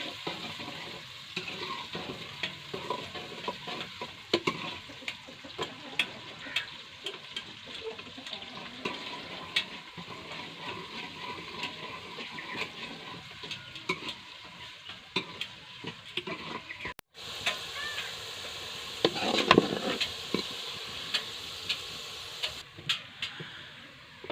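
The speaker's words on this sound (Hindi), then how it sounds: "अब हम इसमें प्याज ऐड कर लेते हैं।" Three chopped onions frying in hot ghee for black pepper chicken curry, a faint, low crackle broken by frequent small clicks and scrapes of stirring, with a brief louder stir near the end.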